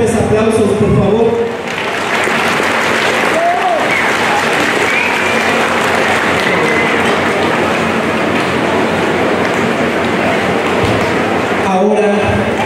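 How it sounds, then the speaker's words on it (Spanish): Loud, steady applause from a crowd at a quinceañera celebration fills the room, a dense continuous roar of clapping that starts right away and carries on without letup. "Señoras y señores, que se escuchen estos fuertes aplausos"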